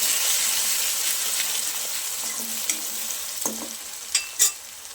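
Curry leaves sizzle and crackle steadily in hot oil for a moong dal tempering, fading slightly over time, with a few sharp spatters and stirring clicks near the end.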